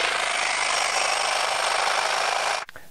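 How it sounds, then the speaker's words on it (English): Reciprocating saw fitted with a metal-cutting blade slicing through a metal rain-barrel downspout, a loud, steady buzzing rasp held close for over two seconds, then stopping abruptly as the cut finishes. "I'm going to be using a reciprocating saw with a metal cutting blade."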